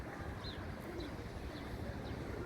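A pigeon being readied for a competition gives a few soft, faint coos, spaced about half a second apart, over a steady background hiss.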